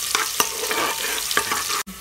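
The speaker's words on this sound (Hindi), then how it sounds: "अब प्याज डाल देंगे इसमें, प्याज से ब्राउन कर लेंगे अच्छे से।" Onions browning and frying in a pan while being stirred for aloo chutney katli, with steady close sizzling broken by several sharp spoon scrapes against the pan and a brief dropout near the end.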